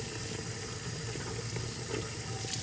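Warm water runs steadily from a tap through a plastic strainer, a continuous even splashing wash that holds at the same level throughout with no talking.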